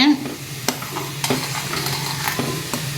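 Sweet pongal being stirred in a pan with cashews and ghee, a scraping spoon stirring over a steady low sizzle, with several sharper clinks of the spoon against the pan.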